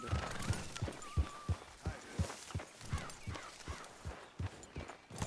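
Horse hooves clip-clop in a steady walking rhythm in the video game Red Dead Redemption 2, a regular series of close, moderately loud thuds with faint game ambience and an occasional soft snort behind.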